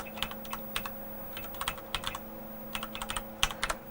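Typing on a Tandy DT-100 terminal keyboard, with clusters of crisp, clacky keystrokes in quick bursts separated by short pauses, close and distinct over a steady low electrical hum.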